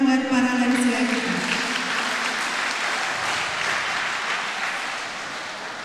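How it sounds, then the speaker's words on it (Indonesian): Applause for an elderly choir at a church evangelism choir evening at HKBP Batam, a dense, steady clapping from the congregation that fades slightly toward the end, with a voice trailing off at the start. "Kita berikan tepuk tangan buat para lansia kita."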